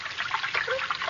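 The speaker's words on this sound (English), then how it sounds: "The water runs quite strongly here, doesn't it?" Water rushes strongly through a large sewer as a radio drama effect, a short, steady, splashing flow heard alone.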